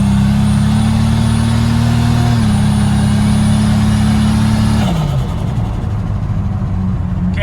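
A turbocharged Pontiac Fiero accelerating on the road, a loud, steady mid-pitched engine drone that climbs slightly in pitch, then drops off sharply as the throttle is released, leaving road and wind noise.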